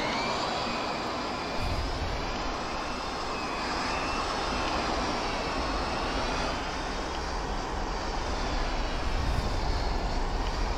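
Mirage F1 jet in a flight simulator game taxiing off the runway after landing: a steady, loud whining turbine roar with broadband rush, holding constant throughout with no talking.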